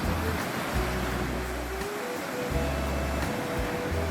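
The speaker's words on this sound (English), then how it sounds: "See how quick the waves are forming." Waves wash continuously onto the shore at Chilika Lake, with a low rumble and gusts of wind noise pulsing beneath the surf.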